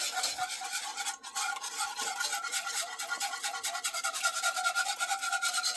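A whisk scrapes and stirs through a thickening cheese sauce for mac and cheese, giving a quick, steady swishing rhythm that is faint and close.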